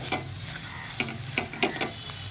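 Masala stuffing for mirchi bajji stirred and fried in a pan, a steady close sizzle broken by several sharp scraping strokes of the spoon, with no talking.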